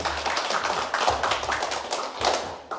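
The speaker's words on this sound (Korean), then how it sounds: "박수 안 치십니까?" A small audience at a political talk claps in a few short, uneven bursts, fairly close, with soft thuds between the rounds and no talking.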